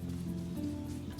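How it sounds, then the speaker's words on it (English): In the video game Papo & Yo, sudden rain patters as a soft, steady hiss of drops over a low, droning background, brief and fairly quiet. "it starts raining abruptly"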